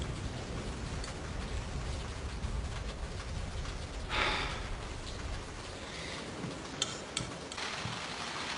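Steady rain falls in a constant soft hiss, with occasional drips and ticks standing out.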